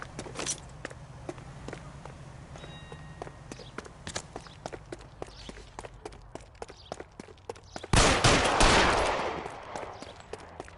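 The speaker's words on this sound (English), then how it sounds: "Sabo, stop or I will shoot!" Video game gunfire crackles in rapid sharp bursts over several seconds, close and loud, with a denser roaring volley near the end.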